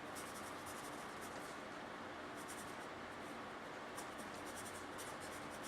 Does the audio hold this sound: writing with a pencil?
yes